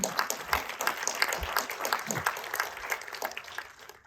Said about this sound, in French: Nous pouvons évidemment les applaudir.